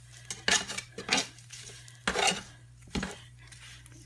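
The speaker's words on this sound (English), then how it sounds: "get a spatula or something and just start mashing the bread up together like that" A spatula mashes cooked paratha in a pan, with the heat just turned off, giving a series of quick metallic scrapes and clanks in uneven bursts, close and fairly loud, with no one speaking.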